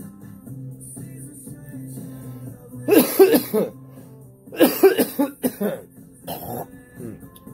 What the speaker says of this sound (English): Definitely makes me cough a little.